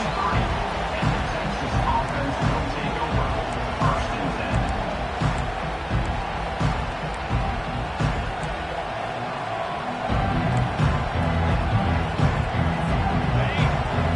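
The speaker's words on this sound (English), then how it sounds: "Listen to the crowd energy here in the early going." A large crowd roars continuously in a big open stadium at a football game, a broad steady wash of cheering and noise with a commentator's voice faintly beneath.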